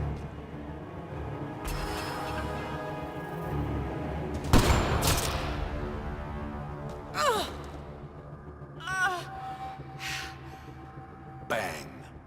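A single sharp sniper rifle shot rings out in the game Mass Effect Andromeda, set at Kadara Port. The loud crack cuts over background music and voices, and fainter bursts follow.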